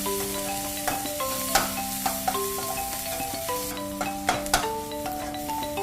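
Onions frying in a pan, a steady soft sizzle under bright sustained tones and occasional clinks and taps, with no talking.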